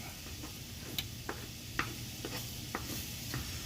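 A vegan egg substitute sizzles faintly in a pan for Japanese-style vegan fried rice, with a low steady crackle and scattered soft ticks and clicks of stirring, no talking.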